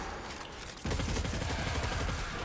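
Tarrabah exotic submachine gun in Destiny 2 firing a sustained rapid burst that starts abruptly partway through and rattles on steadily, after quieter game ambience.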